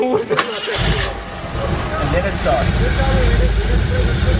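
A Backdraft Cobra's engine cranks and catches after a brief whir, then settles into a loud, steady rumble close by, with voices talking over it.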